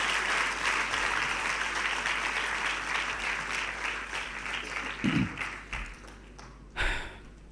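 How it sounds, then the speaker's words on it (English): Steady applause from an audience at an awards ceremony fills the room, holding at a constant level and then tapering off, with a couple of heavier thumps and a brief voice near the end. "I think that definitely deserves a round of applause from you guys"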